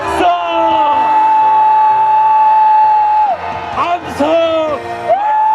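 A large outdoor crowd at a Save Korea national emergency prayer rally at the Naseong-dong intersection in Sejong lets out a long, loud, sustained roar of shouting, dipping briefly before a second burst of yells.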